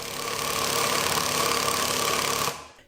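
An impact driver runs in one continuous harsh, buzzing whir with a steady tone, then stops abruptly near the end and leaves a brief fading tail.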